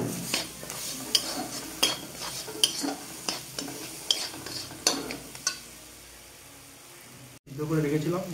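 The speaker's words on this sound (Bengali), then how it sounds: "ভালো করে একটু ভেজে নেবো।" A spoon scrapes and clinks repeatedly against a pan while food fries in a steady sizzle for egg chop, close up; a voice speaks at times, and the stirring stops briefly near the end.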